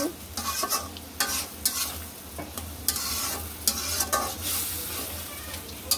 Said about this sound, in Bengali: টমেটো, এবার এই সবগুলোকে মিশিয়ে নিব।